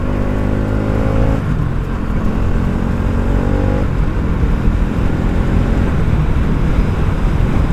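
A vehicle engine runs loudly at close range while the driver downshifts and brakes. Its tone steps down between gear changes as it slows under engine braking, with steady road and wind roar and no talking.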